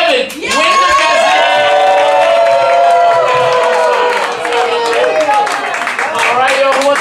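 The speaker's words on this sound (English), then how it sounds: "keep those hands clapping for Amanda Fulton and Kevin Winter" Crowd at a rap battle event claps steadily and cheers, with whoops and voices rising over dense, continuous applause that stays loud throughout.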